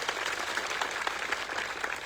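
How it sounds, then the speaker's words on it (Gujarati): Crowd at a tribal community rally in Khedbrahma gives a round of clapping, a steady dense patter of many hands, moderately loud and continuous with no talk over it. "મીડિયા મિત્રો માટે એકવાર જોરદાર તાળીઓ પાડી લો"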